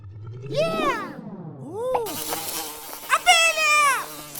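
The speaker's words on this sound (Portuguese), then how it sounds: "Abelha!" A cartoon bee in a children's animal-learning show with surprise eggs buzzes loudly, its synthetic, warbling tones sliding up and down in swooping arcs.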